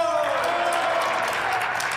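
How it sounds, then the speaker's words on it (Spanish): Opposition senators applaud in the Mexican Senate chamber, a steady wash of clapping that fills the whole moment over an ongoing murmur of voices. "Entonces los de la oposición empezaron a aplaudir"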